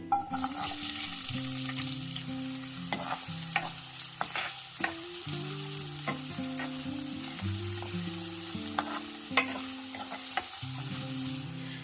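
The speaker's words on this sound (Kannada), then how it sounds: "ಎಣ್ಣೆ ಕಾದಿದೆ, ಹಾಗಾಗಿ ಈರುಳ್ಳಿ ಸೇರಿಸ್ಕೊತಾ ಇದ್ದೀನಿ." Chopped onions fry in hot oil in a pan for chicken samosa, a steady close sizzle with repeated stirring scrapes and clinks throughout, no voices.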